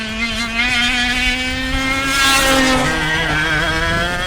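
A racing go-kart engine at Whilton Mill kart circuit howls loud and close, its pitch sweeping up and down steadily as the kart accelerates along the track, with no talking over it.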